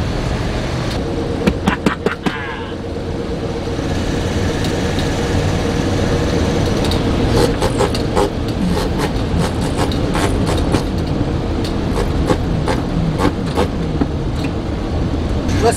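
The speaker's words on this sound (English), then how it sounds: "Listen to that motor." The engine of a 1976 GMC Motorhome runs steadily and loudly at close range, a continuous droning rumble with scattered clicks and rattles throughout.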